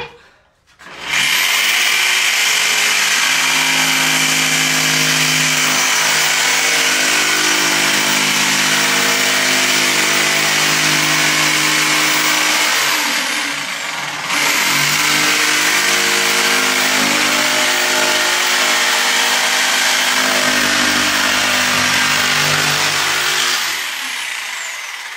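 A power saw cuts through a shiplap board in two long, loud, steady passes, the motor whining continuously with a brief dip between cuts.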